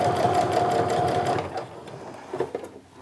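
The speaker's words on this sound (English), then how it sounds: "I've sewn all the way around the bottom edge" A sewing machine runs steadily while stitching around the bottom edge of a fabric sling bag, a loud continuous mechanical hum for about a second and a half before slowing into a few short, uneven bursts as it stops.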